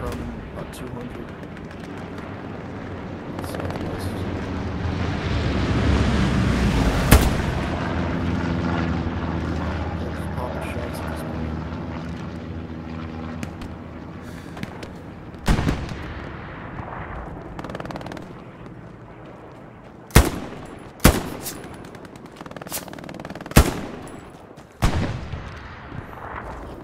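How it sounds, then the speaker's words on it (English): Gunfire in a multiplayer shooter video game: a few sharp shots crack late in the clip over a steady droning background roar, with voices speaking over it. "I just keep hearing gunshots coming from that area."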